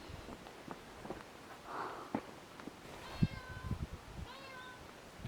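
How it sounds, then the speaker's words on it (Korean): A cat meows a few times, short and fairly close, on a snowy weekend trip to Sokcho, with faint footsteps and soft rustling around it. "고양이 어딨어?"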